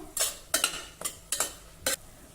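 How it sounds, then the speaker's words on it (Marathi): Potato, onion and French beans with ginger-garlic paste sautéed over low heat in a pan, five distinct scraping stirs of a spoon at a steady, roughly half-second rhythm, close and clear with no talk. "मंद गॅसवर ह्या सर्व भाज्या आता आपण परतून घेऊ"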